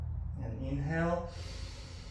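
A deep, voiced inhale during a stretching workout in a garage, drawn in close to the mic over about a second and swelling to a peak before easing off.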